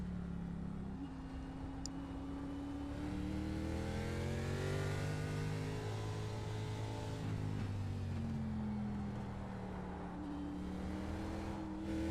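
A NASCAR race car engine in the iRacing video game revs and accelerates through repeated gear changes, its pitch climbing and dropping in long sweeps, steady and moderately loud with no talk over it.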